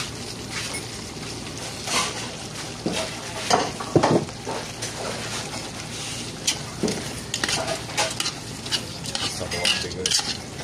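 Muscovado sugar being stirred into beef pares in a pan, with a spoon scraping and clinking against the metal in repeated strokes over a soft sizzle, fairly close and alone without talk.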